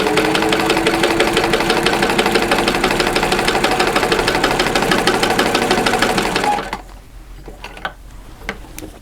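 A sewing machine stitches a fabric catch-all caddy in a fast, even run of rapid needle strokes, then stops abruptly, leaving a few faint clicks and handling sounds.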